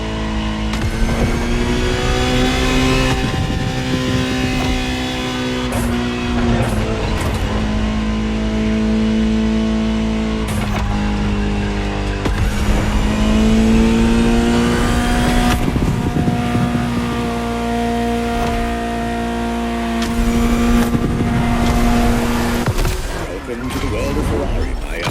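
A Ferrari engine in a video game drones steadily and loud, its pitch rising and falling as it revs through gears, with brief shifts in between.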